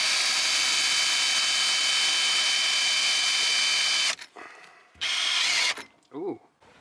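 A power drill bores a hole through a camper van floor for an LPG filler, giving a loud, steady grinding whir for about four seconds, then a shorter second burst, followed by a brief voice.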